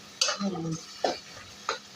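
Garlic frying in a pan is stirred with a utensil, giving three distinct scraping strokes spaced about three-quarters of a second apart over a steady background sizzle.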